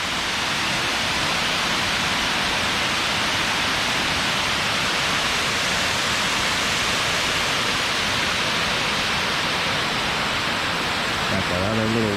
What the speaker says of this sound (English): there she is, Brandywine Falls. 65 foot tall.